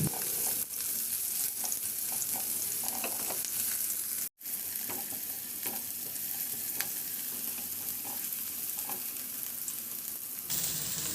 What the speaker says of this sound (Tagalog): Magpainit na muna ako ng mantika at igisa ko na yung bawang. Maglagay din ako ng sibuyas.